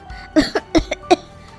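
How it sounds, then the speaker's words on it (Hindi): Two women coughing from smoke of a wood fire indoors, a quick close burst of about five harsh coughs in an irregular rhythm. "दोनों खांसने लगती है।"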